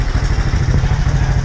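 A Honda XRM 125 dual sport motorcycle engine running close by, a loud, steady throbbing putter with rapid regular pulses over a brief stretch.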